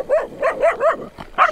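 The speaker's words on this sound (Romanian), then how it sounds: "veneau doi dulăi spre noi, dar nu s-a întâmplat nimic" Two large dogs barking on a mountain trail in Romania, a quick series of about five deep, close, loud barks in an even rhythm.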